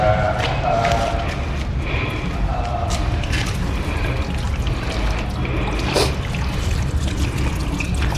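Water trickles and pours steadily out of a CNG gas cylinder after a hydro test, over a constant noisy background, with faint voices in the distance.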